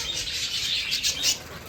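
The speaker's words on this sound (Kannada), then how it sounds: "ಇಲ್ಲಿ ಪಕ್ಷಿಗಳದಾವು, ವೆರೈಟಿ ವೆರೈಟಿ ಪಕ್ಷಿಗಳು" Mixed birds at a zoo aviary, many varieties housed together, fill the air with steady, dense high chirps and twitters, a continuous chorus with brief louder bursts and no voices.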